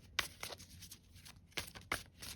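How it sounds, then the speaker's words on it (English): A deck of tarot cards being shuffled by hand up close: several quiet, crisp riffling bursts separated by short pauses, with soft card rustling between them. "I'll go ahead and give these a little extra shuffle."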